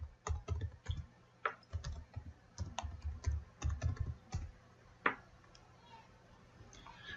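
Keys tapped in short irregular bursts on a computer keyboard while a password is entered, crisp close clicks with faint background hum and no talking.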